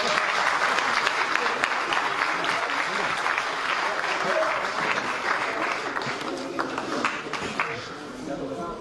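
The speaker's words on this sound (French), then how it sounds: "On a un applaudissement super pour" An audience at a film screening event claps together in a dense, sustained round of applause that stays fairly even throughout and eases slightly toward the end.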